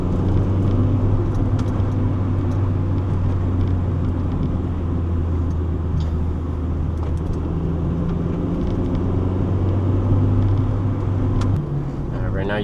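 A manual Acura Integra DC4 drives in Southern California traffic, its engine and road noise forming a steady close rumble with shifting low tones as the car moves, and faint talk beneath.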